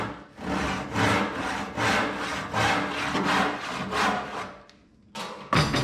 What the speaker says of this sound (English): I lock this in the vise, grab my crosscut saw, and get to work.